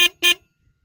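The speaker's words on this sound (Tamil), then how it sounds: "அடுத்து நம்ம வண்டியோட ஹாரன்." Two short, bright beeps from the horn of a Hero Xpulse 200 4V motorcycle, the second slightly longer, loud and close, with brief silence between and after.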